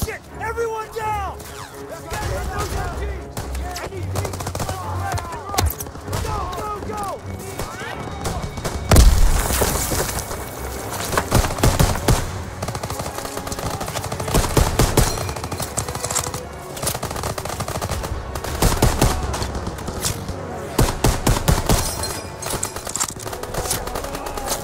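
Machine gun fire from a barn in the Call of Duty: WWII game, Operation Cobra, rattling in long bursts with heavy thumps and booms, loud and sustained, while soldiers shout over the din.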